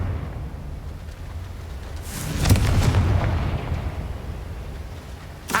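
The Confringo fire spell exploding in the video game Hogwarts Legacy: a single heavy boom with a deep rumbling blast that swells, lingers and slowly decays, followed by a brief crack near the end, with no talking.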